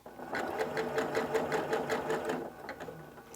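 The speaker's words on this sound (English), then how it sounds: "And then I'm going to start sewing." A sewing machine stitching vintage linen runs steadily at a close, moderate level for about two and a half seconds with a rhythmic needle pulse, then slows and stops.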